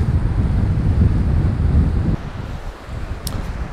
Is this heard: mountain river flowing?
yes